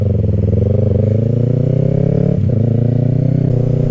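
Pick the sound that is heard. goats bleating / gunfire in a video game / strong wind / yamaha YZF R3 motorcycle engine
yamaha YZF R3 motorcycle engine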